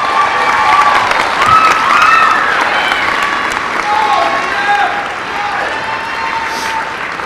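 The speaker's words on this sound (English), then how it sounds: "Give them a round of applause." Audience at a high school athletes' signing day ceremony applauds and cheers, with continuous loud clapping mixed with whoops and shouts that stays steady across several seconds.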